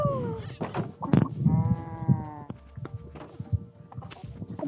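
Sheep bleating in a video game parkour map, a few wavering harmonic bleats over clip-clop footsteps and other farm-animal game sounds, fairly close and moderately loud.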